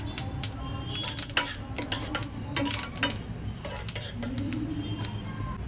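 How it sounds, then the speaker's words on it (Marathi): Flaxseed and sesame seeds dry-roast in a pan while being stirred, giving light rattling, ticking and scraping clicks scattered over a low background hum, close by with no clear speech. "बघा इथे अळशी भाजत आहे."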